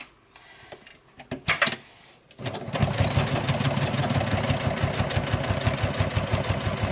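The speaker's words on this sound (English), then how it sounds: "I'm going to start sewing this end, this side" A home sewing machine stitches the side of a fabric make-up bag, starting with a few soft handling sounds and clicks before settling into a steady, fast, close mechanical chatter that runs continuously to the end.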